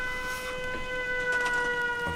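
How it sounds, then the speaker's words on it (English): A settlement warning siren in the video game Fallout 4 wails as a steady tonal drone with layered harmonics, loud and continuous over faint background game noise. "Oh no, that's a siren."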